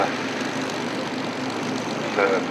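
Vintage aircraft in formation at a Flying Legends airshow, a steady distant propeller-engine drone filling the air, swelling slightly near the end as the formation passes.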